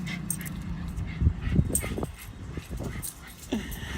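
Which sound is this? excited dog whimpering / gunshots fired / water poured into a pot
excited dog whimpering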